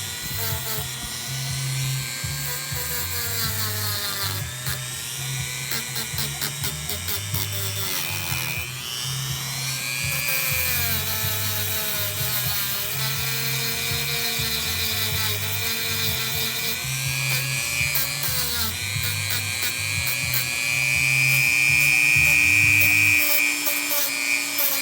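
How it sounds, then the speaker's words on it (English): A Dremel rotary tool grinds continuously on the butt plate of a wall gun, its high whine shifting in pitch as the bit digs and eases off, loud and close, with no speech, for about twenty-five seconds. "I use the Dremel tool."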